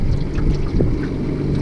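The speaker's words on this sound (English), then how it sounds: "But the engine is loud back here, so it makes me want to talk louder" Steady engine drone from a salmon fishing boat out on the water off Milwaukee while fishing for coho, loud and continuous with wind and water noise mixed in and no talking.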